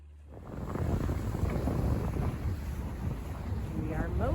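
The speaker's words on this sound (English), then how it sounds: "We are motor sailing." A sailboat motor sailing on open water in the Bahamas region, with a steady engine and water rush under heavy wind buffeting on the microphone throughout.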